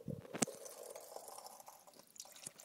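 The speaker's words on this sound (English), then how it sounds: "first flush water enters the chamber and then forces the ball to rise" Water trickling into a first flush rainwater diverter chamber, faint dripping and flowing liquid with a few soft splashes, close and steady.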